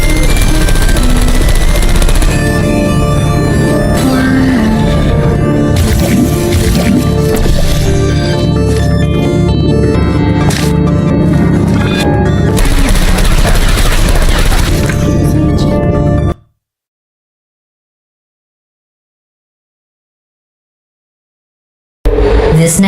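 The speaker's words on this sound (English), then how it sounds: "This next test involves turrets. You remember them, right? They're the pale spherical things that are full of bullets." Turret gunfire in the Portal 2 video game, loud dense rattling bursts and booms layered with game sounds for about sixteen seconds before cutting to silence, then a brief return.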